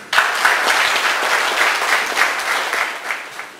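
A municipal president of Ixmiquilpan is welcomed with loud, sustained audience applause at a Day of Older Adults registration ceremony, a dense steady wash of clapping throughout.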